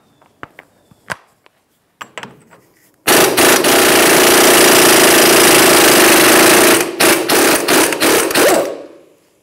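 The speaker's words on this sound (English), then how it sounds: "I'm going to remove the axle nut first, and that's a 30mm 12-point." A 30mm 12-point axle nut comes off a 2013-2018 Toyota RAV4 front hub. A few sharp metallic clinks lead into a loud, close, sustained rattling burst from a power tool lasting several seconds, which ends in short stuttering pulses.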